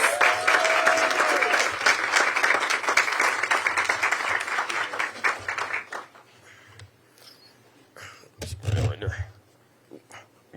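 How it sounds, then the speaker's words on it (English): An audience at a Ward 8 technical school event applauds a student and his mother with dense, steady clapping that thins out after about six seconds, followed by scattered noises and a voice. "Let's give them a warm round of applause."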